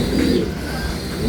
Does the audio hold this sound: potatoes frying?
no